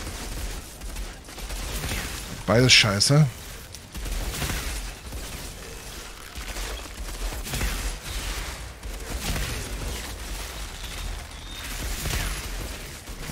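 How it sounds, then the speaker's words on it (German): Gunfire in the shooter game Outriders: a short, loud burst of rapid shots stands out near the start, amid steady in-game noise, with people talking throughout. "Der eine hatte brennende Schüsse und der hat gefrierende Schüsse."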